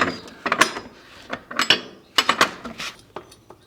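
A wrench works loose the rear axle of a Yamaha R3 motorcycle during a chain swap, with close, sharp metallic clicks and clanks coming in irregular bursts.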